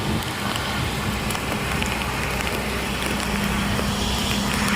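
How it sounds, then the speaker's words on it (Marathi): A dense, steady hiss of heavy rain pours without pause, loud and close, with a faint low hum beneath it. "इथं पावसाने बघा फुल पाऊस आहे"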